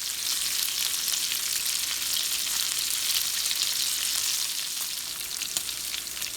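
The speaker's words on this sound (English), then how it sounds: "I'm going to get started by cooking my chunk bacon in my fry pan." Chunk bacon frying in a fry pan, a constant crackling, hissing sizzle that stays loud and even throughout, close up with no speech.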